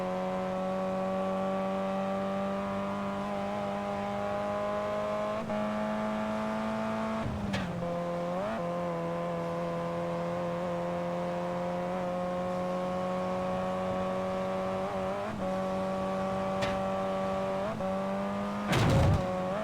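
A Ferrari driven in the racing game Test Drive Unlimited 2, a steady loud engine drone held at high revs with brief dips at gear shifts and a short tire squeal near the end, no talk.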